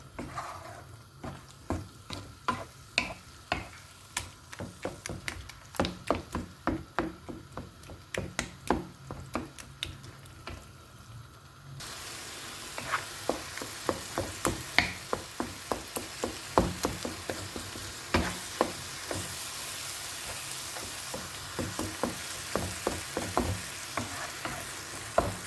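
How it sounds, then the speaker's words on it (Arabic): Peppers and eggplant frying in a pan, stirred with a utensil that knocks against the pan in repeated sharp taps over a constant sizzle, the sizzle growing louder partway through, with no talking. "غادي نبقى مره نحركها معكم بحال هكا حتى تبين ان شاء الله"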